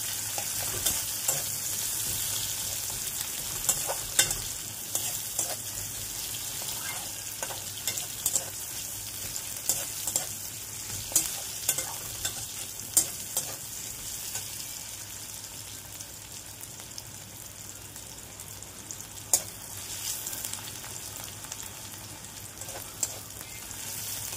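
Chopped onion and garlic frying in a pan for a Bengali stem-greens dish, giving a steady close sizzle with scattered stirring scrapes and spatter crackles throughout.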